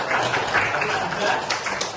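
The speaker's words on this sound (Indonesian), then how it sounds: "Oke, kasih tepuk tangan." A class of schoolchildren clapping together during a science lesson, a continuous moderately loud patter of hands with faint voices underneath.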